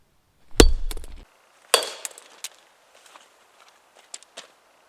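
A hammer strikes a reinforced padlock with a thick shackle and a body of stacked, riveted plates. Two sharp, loud metallic blows land about a second apart, followed by faint clinks and small rattles as the lock settles.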